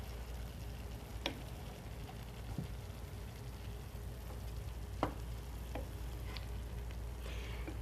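Tomato sauce being stirred into food frying in a pan, with a steady low sizzle throughout and occasional light clicks and scrapes of a spoon against the pan.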